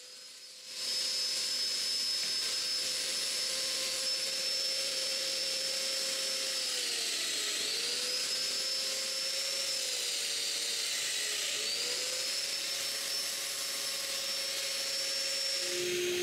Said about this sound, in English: all that's left to do is to make the mortises for the dominoes